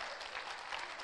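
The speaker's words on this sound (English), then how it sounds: "Come on, give somebody a hand clap." A church congregation at a Father's Day service claps hands in a brief, even burst of applause, soft and distant, a continuous patter with no distinct voices.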